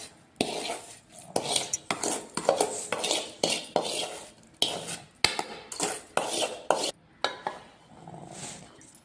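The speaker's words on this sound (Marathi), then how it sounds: "तुपामध्ये तळून घेतलेला डिंक हा वाटीच्या साहाय्याने बारीक करून घ्यायचा आहे।" Ghee-fried edible gum being crushed fine with a small bowl, a steady run of sharp, close knocks and scrapes against a dish, repeated in quick bursts with short pauses between them.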